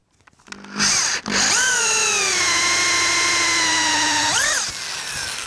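A power drill bores holes into a wooden natural edge hollow form, with a loud, close whine that spins up, holds a steady pitched tone for several seconds and then winds down.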